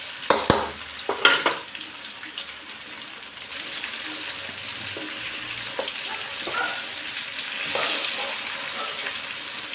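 Green chillies frying in hot oil for a chilli pulli thokku give a steady, even sizzle throughout, with a few sharp clinks and stirring scrapes near the start.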